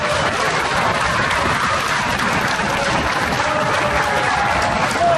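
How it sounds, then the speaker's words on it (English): Wrestling crowd packed into the SFX venue keeps up a continuous loud wash of cheering and applause, steady and dense throughout, with a commentator talking over it. "This crowd getting into the action here in the SFX."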